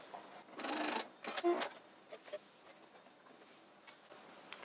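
A sewing machine stitches across the seam of a fabric face mask in one short, fairly loud whirring burst, followed by a few faint clicks and ticks from the machine.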